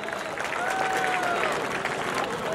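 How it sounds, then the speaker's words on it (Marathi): Crowd applause at an outdoor wrestling match in Baramati, a steady wash of clapping and crowd noise that holds evenly throughout, moderately distant, with faint voices mixed into the crowd. "त्या गरीबासाठी टाळ्या करावं सर्वांनी"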